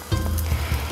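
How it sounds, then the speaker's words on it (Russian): A soft sizzle as a chapati flatbread is laid onto a hot, dry cast-iron pan, with faint crackling and low thumps, close by and brief. "Кладем на сухую сковороду наш блинчик"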